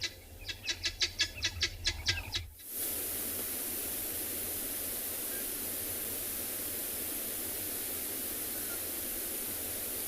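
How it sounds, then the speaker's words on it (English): At sunrise on safari, guinea fowl give a rapid series of about nine sharp, rhythmic calls, then fall silent under a steady broadband hiss. "pretty much beautiful instrumental coming from guinea fowl"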